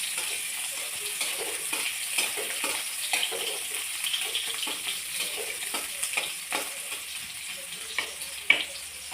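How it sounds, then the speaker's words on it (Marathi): Onion sautéing in a hot pan for a home-style Marathi vegetable dish: a steady close sizzle broken by frequent scraping stir clicks and a sharper clink near the end, with no voices. "ह्याच्यात कांदा परतून घ्यायचा आहे"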